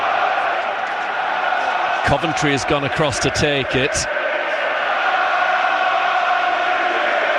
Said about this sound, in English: You can hear the crowd encouraging him.